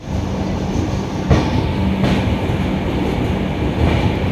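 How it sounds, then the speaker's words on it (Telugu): The Navjeevan Express rumbles out of Ahmedabad station, heard from inside a carriage as a loud, continuous low roar with faint rhythmic wheel clatter and occasional squeaks, with no voices. "ఇప్పుడు వచ్చేసి అయితే మనం అయితే అహ్మదాబాద్ రైల్వే స్టేషన్ నుండి కూడా డిపార్ట్ అవుతున్నాం"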